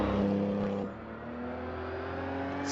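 A rally car runs a stage of Rally Porec in the Eastern European Rally Championship, its engine droning steadily with a brief lift-off easing the pitch before settling into a smooth, moderately loud hum.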